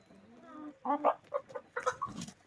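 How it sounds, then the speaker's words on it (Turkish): A rooster and hens cluck in a backyard coop where three new chickens were just added, giving short, close bursts of clucking that rise and fall after a softer drawn-out call. "Horoz da direkt geldi."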